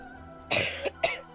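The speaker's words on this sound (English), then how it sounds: "I'm so sorry I coughed on mic" A single harsh cough bursts out close to a microphone, followed a moment later by a shorter second cough, over a quiet background hum during a live gameplay stream.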